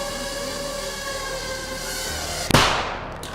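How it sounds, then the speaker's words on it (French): A 3-gram shaped explosive charge detonates in one sharp, loud crack that decays over about a second, coming after a steady humming background. "little bang is enough to penetrate the skull and destroy the contents."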